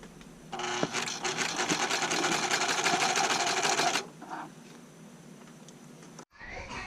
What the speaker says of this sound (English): I've got the skirt sewed on to the top piece